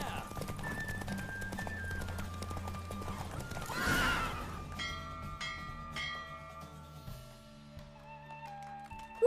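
A horse in The Witcher 3 clip-clops at speed with a neigh midway, set against game music and bell-like tones, and a voice briefly talks over it.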